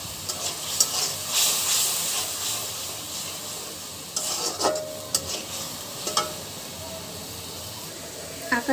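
Spice paste for katla fish curry frying in a village kitchen, a steady close sizzle and hiss with several sharp scraping stirs and clatters punctuating it.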